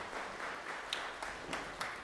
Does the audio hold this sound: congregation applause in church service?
yes